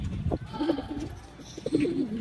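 Pigeons cooing softly nearby in a loft with a paired couple, low repeated throaty coos coming in two short phrases over faint background noise.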